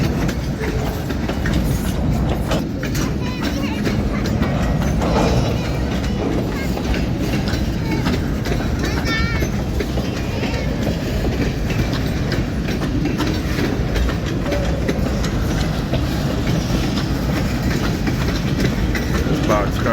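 Freight train ELS 503 and 400 rolling past up close, a loud continuous rumble with rhythmic clatter and rocking boxcar noise that fills the whole stretch, with a little talk mixed in.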